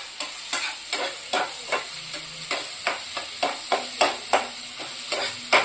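Prawns frying in a pan over a steady sizzle, punctuated by a regular series of sharp scraping stir strokes roughly twice per second, close and clear with no talking.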